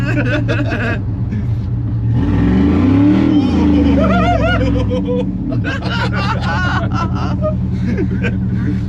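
An LS V8-swapped Chevy C10 pickup built for drifting revs loudly, its engine note rising and falling in sweeping pulls with a deep grumble, heard close with people talking over it.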